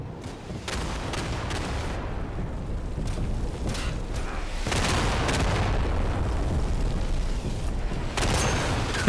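A grenade blows up amid a World War II firefight in the game Day of Infamy, with heavy booming blasts standing out over a dense, ongoing rattle of gunfire.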